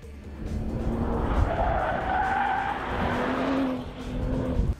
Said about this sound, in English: a little rear-end sideways action doesn't take much more than a prod of the throttle